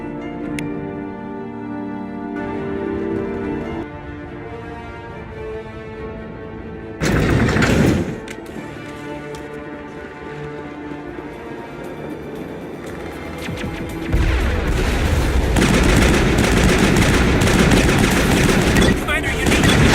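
Gunfire in the video game Mass Effect during a firefight: bursts of rapid automatic shots and sharp single reports, with a loud blast midway and a dense wall of shooting toward the end, set over game music and voices.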